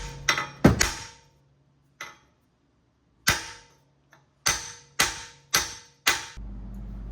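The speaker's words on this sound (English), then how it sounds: "Hammer on hammer is not a good idea, but this is a lead hammer" Sharp metallic strikes of a lead hammer on another hammer during wheel hub replacement on a 2009 Lincoln MKS ring out one at a time with uneven pauses, each blow fading quickly, close and fairly loud.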